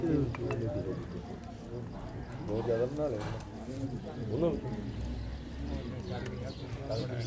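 Soft cooing of pigeons repeats at close range while someone talks over them almost throughout.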